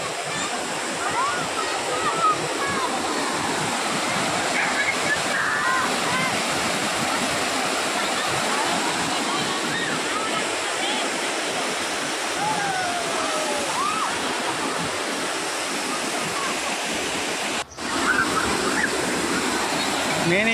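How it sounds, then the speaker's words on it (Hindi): A waterfall at Parshakhola pours steadily, a continuous loud rush of falling water filling the scene without a break, with a voice talking over it. "ये झरना और बढ़ता है, जैसे जैसे पानी गिरेगा वैसे वैसे बढ़ता जाता है।"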